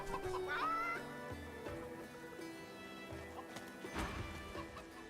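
Chickens cluck near a house in the fantasy role-playing game Divinity Original Sin 2, with short clucks and a horse's clip-clop and whinny mixed over soft game music.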